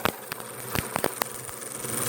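An improved dual rotary driven Tesla hairpin high-voltage circuit gives off a thin, insect-like buzz, steady and fairly close, with a few sharp crackling snaps scattered through it.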